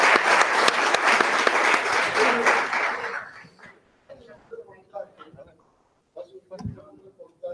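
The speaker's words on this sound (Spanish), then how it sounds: "Eso parece un aplauso, ¿no?" An audience at a talk breaks into loud, dense applause lasting about three seconds, then it dies away into near quiet, with a few murmurs and a voice afterward.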